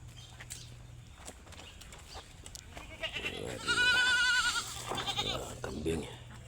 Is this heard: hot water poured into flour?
no